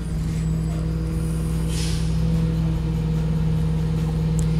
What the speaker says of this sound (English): Those silly trash trucks are loud.